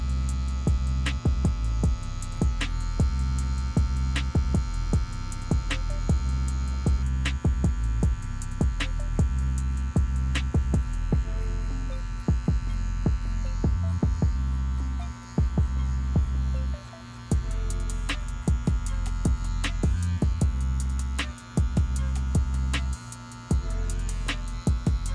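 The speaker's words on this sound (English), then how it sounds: "I'm only using the border of the clipper's blade, and also I'm not rushing" Electric hair clippers run steadily during a bald fade haircut, giving a loud, close, continuous buzz with a strong hum and irregular clicks and blade contact noises throughout, with no talk.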